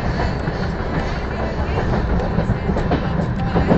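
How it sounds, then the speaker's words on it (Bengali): The Brahmaputra Mail train slows as it enters Bongaigaon station, a loud steady rumble of wheels on rails with faint rhythmic clatter. The sound is close and continuous, and some speech-like sound may be mixed in. "ট্রেন এখন বঙ্গাইগাঁও ঢুকতেছে"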